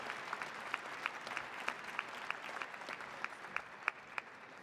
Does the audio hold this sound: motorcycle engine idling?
no